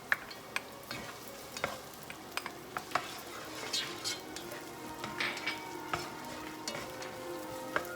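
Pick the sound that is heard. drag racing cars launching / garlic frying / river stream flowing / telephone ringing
garlic frying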